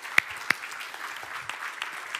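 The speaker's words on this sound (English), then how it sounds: "You can clap for that." Church congregation clapping: a few sharp individual claps ring out near the start, then a light, scattered patter of applause continues softly at a moderate distance in the sanctuary.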